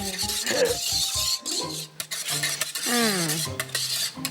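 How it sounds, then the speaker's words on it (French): A whisk scrapes and clinks around a metal saucepan in quick strokes by hand, with people talking over the stirring. "Quand je vois Flora qui prend sa casserole et qui empoigne son fouet là et qui commence à brasser, tourner, fouetter"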